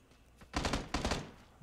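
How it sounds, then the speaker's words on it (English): A couple of quick bursts of rapid gunfire in the video game PlayerUnknown's Battlegrounds, fairly quiet and close together, with brief silence around them. "that's a lot of gunfire"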